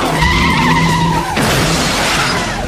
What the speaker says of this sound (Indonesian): Lalu aksi kejar-kejaran mobil pun terjadi.